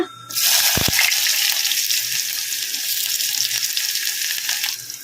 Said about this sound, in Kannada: ಸಾಸಿವೆ ಜೀರಿಗೆ ಚಟಪಟ ಅಂದಿದ್ದಾವಲ್ಲ